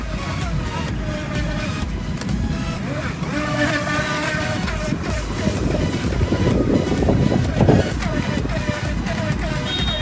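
Feilun FT009 remote-control speedboat, a high-end 30 km/h model, running over choppy river waves on the Saigon River. Its motor whines continuously amid wind and water noise for the full stretch, with a voice talking over it.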